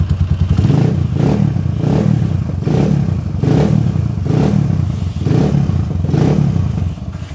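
A motorcycle engine with a freshly replaced timing gear set revs repeatedly in close, even pulses, about one rev every second, loud and steady with a mechanical clatter under the throttle blips.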